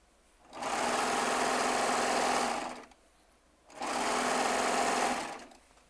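A Baby Lock Triumph serger running at full speed in two sustained, close, loud bursts of buzzing whir, each lasting about two seconds with a short pause between them.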